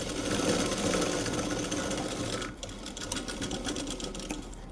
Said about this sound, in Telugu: ఈ విధంగా మలిపి ఇంకొక స్టిచ్ వేసుకోవాలి